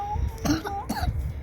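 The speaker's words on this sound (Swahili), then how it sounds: "Sasa pia huyu anakohoa." A person coughs and clears their throat nearby: two or three rough, short bursts with a little throaty voicing between them, heard alone.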